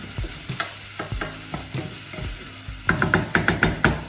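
Aubergine pieces sizzle steadily in a hot pan while a utensil stirs them in repeated scraping strokes, the stirring growing louder and sharper toward the end; no talking.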